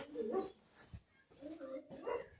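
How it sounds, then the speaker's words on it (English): Dogs whimpering and giving short barks in two bursts, moderately close, with quiet gaps between them and no speech. "dogs are being weird"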